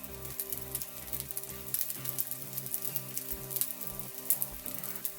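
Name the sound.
stirring Mexican rice frying in a pan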